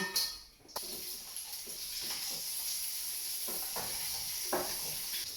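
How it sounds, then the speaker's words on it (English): Pork frying in a hot wok gives a steady, close sizzle and hiss that runs throughout, with a few brief louder crackles and faint stirring clatter. No one speaks. "So we'll be adding our pork to it now."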